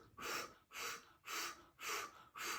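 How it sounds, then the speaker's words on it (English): Controlled breathing during childbirth training: five slow, even breaths at a steady rhythm, each a soft airy exhale, close and alone with no talking. "Using breathing as a way to control and ease your baby out."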